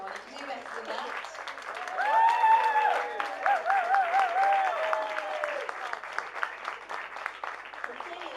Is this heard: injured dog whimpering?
no